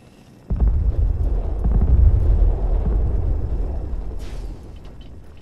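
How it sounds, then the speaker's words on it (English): Explosions in the video game Fallout 4 open with a sudden blast and roll on as a heavy, low rumble for several seconds, then fade gradually. "Random explosions."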